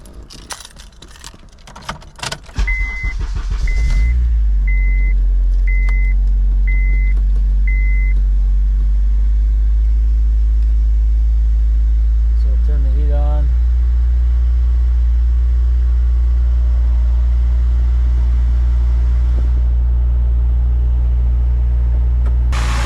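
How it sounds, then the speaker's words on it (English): A K-swapped Honda Civic EM2 engine cranks over and catches after a series of chimes and key jingles, then settles into a loud, steady, close idle with a deep rumble. "Alright guys, I'm gonna start the car,"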